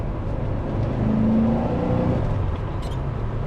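Early Porsche 928 with a manual gearbox driving along, its engine droning steadily with a low rising hum as it pulls through the gears, close and continuous with no talking.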